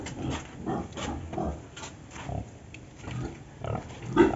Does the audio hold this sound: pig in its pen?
yes